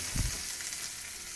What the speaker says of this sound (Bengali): পেঁয়াজ দিয়ে দিচ্ছি ডিমটা ঝাল করব বলে